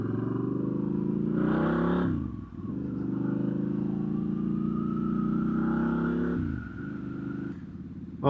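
Triumph Scrambler 1200X motorcycle engine revving up close, a loud throbbing rumble with sharp rises and dips between blips, no voices.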